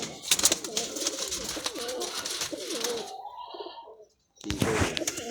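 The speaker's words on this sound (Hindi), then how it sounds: "लो ये लाखा कबूतर भी देखें माशाल्लाह, और ये टैडी कबूतर भी देखें।" Pigeons, including Lakha and Teddy birds kept for sale, coo in a low warbling murmur close by, then fall silent briefly before the calls return.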